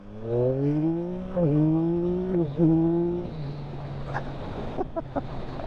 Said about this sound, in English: One last twist of the throttle.